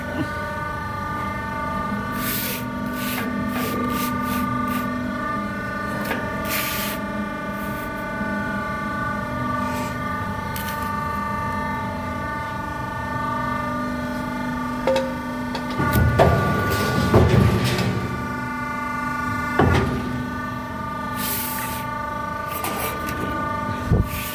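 An EPIC hydraulic guillotine shear runs with a steady tonal motor hum throughout, with a short, louder, rougher burst partway through as the blade makes its cut.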